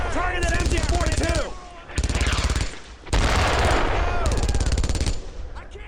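MG-42 machine gun fire in the WWII shooter Brothers in Arms, three loud rapid-fire bursts close by, with shouted voices over the shooting.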